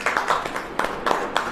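A church congregation clapping along during a sermon: steady rhythmic claps land about four per second, fairly close and moderately loud, in a short burst.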